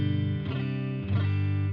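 A clean electric guitar chord through a BOSS Nextone amp on the clean channel, 6L6 setting, rings out and sustains, then is restruck once; bright, undistorted tone, no voices.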